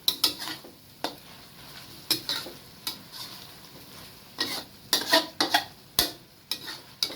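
A spatula clatters and scrapes rhythmically against a hot pan as chicken offal is stir-fried with holy basil leaves, with sizzling underneath and repeated close metallic taps.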